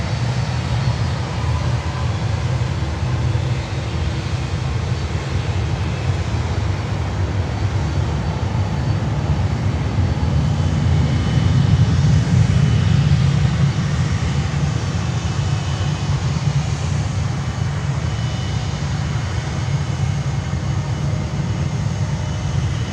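An American Airlines Boeing 737-800 jet airliner rumbles on the runway at Miami airport, a loud, steady low engine roar that swells slightly midway and holds constant without voices.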